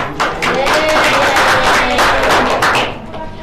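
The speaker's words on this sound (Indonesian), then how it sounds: "Beri tepuk tangan dengan Bapak" Classroom applause from students in a primary school microteaching lesson, a dense patter of hand claps lasting a few seconds with murmured voices mixed in.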